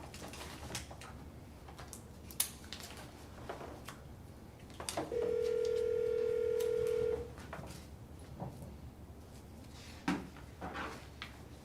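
A telephone being used to place a call during a budget meeting, with a single steady tone lasting about two seconds amid scattered clicks and handling knocks in a quiet room.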